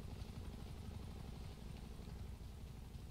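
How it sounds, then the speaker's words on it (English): Steady, dense rotor and engine roar from a helicopter in the video game GTA V, a continuous close drone throughout with no talk. "Get in the helicopter."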